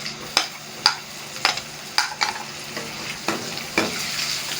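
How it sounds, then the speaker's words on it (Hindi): Onions frying for mash daal, a close steady sizzle with regular sharp scrapes of a spatula stirring against the pan about every half second. "अब हम इसके अंदर प्याज डालेंगे।"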